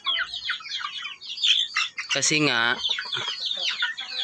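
Upgraded native chickens cluck and squawk up close in a busy, overlapping stream, with one louder drawn-out call partway through.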